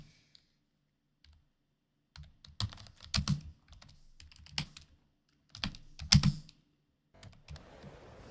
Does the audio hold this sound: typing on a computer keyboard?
yes